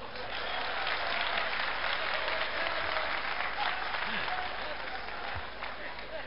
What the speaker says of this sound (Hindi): आप समझ जाएंगे तो ताली बजा के बताइएगा।